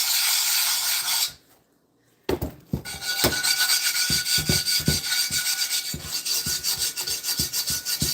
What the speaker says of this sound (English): Can you guys see what I'm doing with the pumice stone?